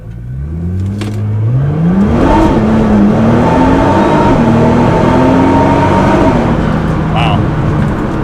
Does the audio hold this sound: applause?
no